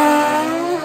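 A Kawasaki ZX14 and a Suzuki GS drag racing side by side at a motorcycle drag strip give a loud, sustained engine roar with a steady high whine, heard briefly and with no talk.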